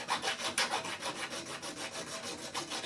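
A steel file rasps rhythmically across a Soule sight base for a Winchester 1885 rifle, steady back-and-forth strokes about five per second, close and fairly loud with no talking.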